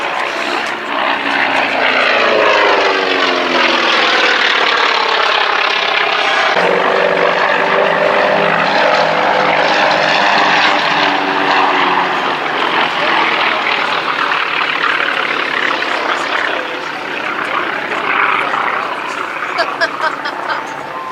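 A Catalina flying boat flies past at the Duxford Battle of Britain air show, its piston engines and propellers roaring loud and steady with a slow Doppler sweep, while a commentator talks over it.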